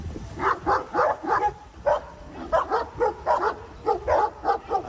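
A dog yips and barks in quick repeated bursts, about a dozen short calls in a loose rhythm, fairly close and clear with no talking.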